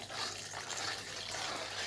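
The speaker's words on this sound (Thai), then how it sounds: "จะค่อยๆเทน้ำด่างขี้เท่าก่อนนะคะ" Wood ash lye water poured slowly into a mixture for homemade dishwashing liquid, a steady soft liquid trickle heard close up without talk.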